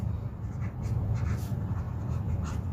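Someone writes by hand during an Urdu sentence lesson. Soft pen or chalk strokes scratch and shuffle in short, irregular bursts, close and quiet, with no talk.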